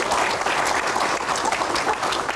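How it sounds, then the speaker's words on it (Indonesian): An audience at an Indonesian televised Q&A show applauds steadily, a dense, even wash of many hands clapping close and loud without a break. "Tepuk tangan dulu"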